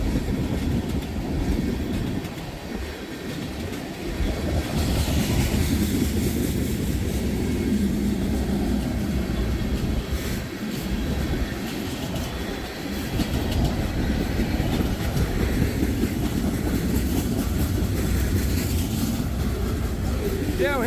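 Freight railcars carrying crude oil and hydrocarbon liquids on a CSX line in Lodi, Ohio, roll steadily past at close range with a continuous heavy rumble and rhythmic clacking of wheels over rail joints, and a voice talks faintly at times.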